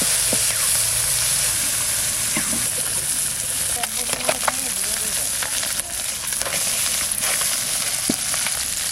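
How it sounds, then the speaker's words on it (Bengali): Snakehead (shol) fish frying in oil in a clay pot, a steady loud sizzle with scattered pops and crackles throughout, plus occasional stirring scrapes. "মাছ ভাজবো।"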